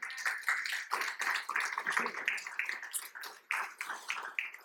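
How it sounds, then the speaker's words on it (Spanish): A church congregation clapping steadily, dense overlapping hand claps of applause from a crowd, sustained for several seconds. "denle un aplauso a Dios"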